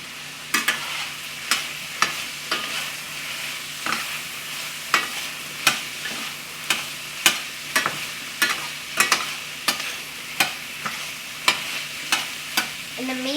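Cabbage cooks in a pan with a steady sizzle, while sharp spoon-on-pan stirring clacks repeat about once a second, close and fairly loud, with no one speaking.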